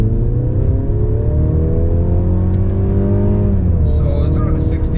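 A 2023 Mercedes-Benz C300 4MATIC sedan accelerating hard from a standstill, its engine note climbing steadily and smoothly, heard from inside the cabin with a constant loud drone and a brief shift near the end.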